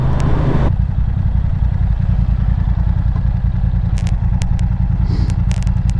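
BMW F900R motorcycle being ridden, its engine giving a loud, steady low rumble close up throughout, mixed with wind rush and a few faint ticks, and no talking.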